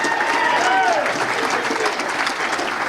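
A business luncheon audience claps steadily throughout, a dense, even wash of applause from a crowded room with no pauses.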